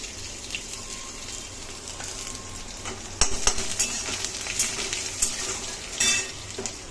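Crushed garlic dropped into hot oil, a quieter sizzle that jumps louder as it hits the oil, followed by crackling frying with spoon clinks and stirring scrapes close by.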